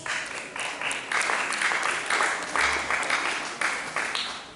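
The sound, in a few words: congregation clapping for the interpreter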